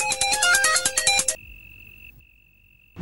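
A bright electronic ringtone melody plays loudly for about a second, then cuts off, leaving a thin steady tone and quiet.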